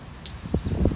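Rain falling on a church yard during mowing, a soft, faint patter of scattered drops with a few louder taps, low and continuous without any voices.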